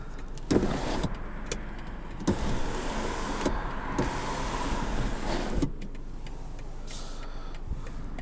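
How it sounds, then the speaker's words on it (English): A motorized panoramic sunroof on a 2022 BMW X4 30i slides open with a steady electric whir from inside the cabin, with brief clunks near the start and end of its travel. "Do have panoramic sunroof, I should say dual sunroof. This part does open."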